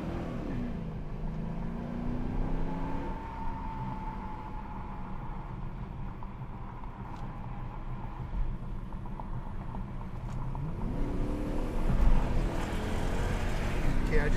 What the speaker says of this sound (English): I just got on it at about 60 miles an hour and it took off pretty good